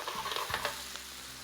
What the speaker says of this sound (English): You want that butter to get nice, hot, and frothy.